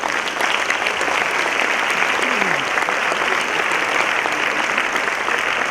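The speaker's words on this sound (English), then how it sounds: "another round of applause" Sustained, even applause from an audience fills the room at a steady level throughout, with no talk over it.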